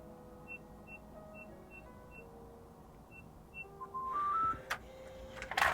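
Faint, evenly spaced keypad beeps as a PIN code is typed on a Tenon K7 smart lock, then a rising electronic chime and mechanical whirr and clunk as the lock releases, close up in a quiet room.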